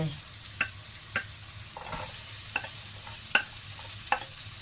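Onion and garlic frying in a pan for a spaghetti sauce with black mushrooms, a steady close hiss of sizzling broken by regular light scrapes and taps of stirring.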